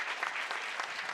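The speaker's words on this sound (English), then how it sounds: "a good round of applause to him." A forum audience claps together in a dense, steady burst of applause, moderately loud and filling the whole brief moment without talk.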